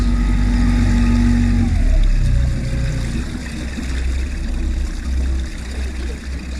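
A Mercury 15 Pro kicker outboard motor trolls slowly on a boat, a steady close low drone with a faint tonal hum, continuous throughout.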